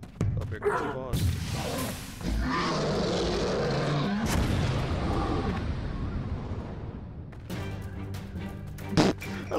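Claymore mines go off in the shooter game Crossfire, heavy booming blasts and crashing debris over a dense, continuous game soundscape with a few sharp impacts near the end.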